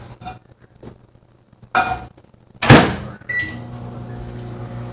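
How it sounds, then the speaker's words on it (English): Microwave oven in a home kitchen: a couple of sharp clicks and a door thud, then a loud beep and the steady low hum of the oven running as food melts inside. "So I'm putting this in the microwave so it can melt and go with my crust."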